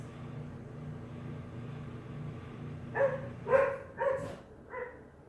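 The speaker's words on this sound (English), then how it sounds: "Those are crazy barking dogs." Several dog barks in a quick cluster of four, moderately loud, over a steady low hum of background noise.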